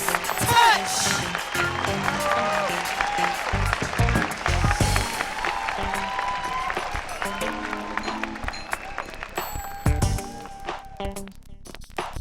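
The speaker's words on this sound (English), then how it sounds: "Please put your hands together for Mr." An audience claps for a poet at a symposium, with a dense patter of hands in the room mixed with voices and a loud host talking over it.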